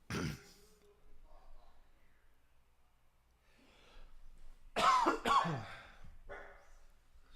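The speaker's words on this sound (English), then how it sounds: "excuse me, guys, for that cough" A couple of harsh, close coughs burst out after a quiet stretch of soft breathing and low murmurs, followed by a throaty exhale.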